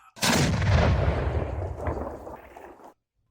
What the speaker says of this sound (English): The news somehow captures this explosion